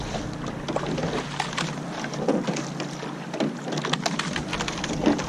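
A crew paddling a rowing boat on open water, rhythmic strokes and splashing with wind noise around, moderately close and steady.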